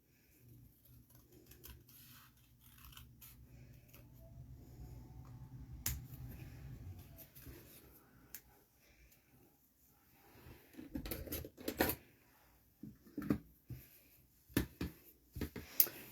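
Scissors cut a red card in half, a series of faint, sharp snips and paper rustles starting quietly and turning into several crisp cuts near the end.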